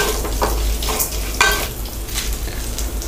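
Cinnamon and curry leaves fry in hot oil for moong dal sambar, a steady close sizzle broken by a few stirring scrapes.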